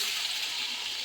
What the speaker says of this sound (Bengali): এরপরে আমি দিয়ে দেবো জল।